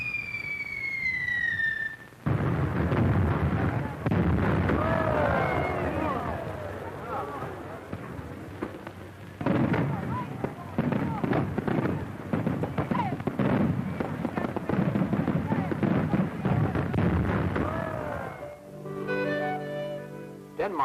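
Fireworks bursting at night over Tivoli Gardens in Copenhagen, a dense run of crackling pops and booms between brief gaps, heard from a distance under music and a narrator's voice on an old travel film soundtrack.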